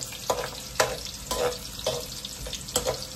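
Garlic browns in a frying pan while a utensil stirs it, about five rhythmic scraping strokes over a soft continuous sizzle, close and fairly quiet.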